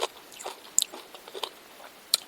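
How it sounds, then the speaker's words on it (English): Close, soft mouth sounds of a person chewing food, with a few irregular crisp bites and crunches scattered across a quiet background. "I'm chewing."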